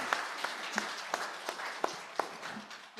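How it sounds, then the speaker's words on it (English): Scattered applause from a small congregation at a Unitarian Universalist worship service, sparse, distinct claps landing at a loose, uneven pace, fairly close and soft. "may we give them a nice round of applause?"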